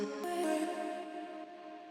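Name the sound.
future bass vocal chop an octave lower, played alone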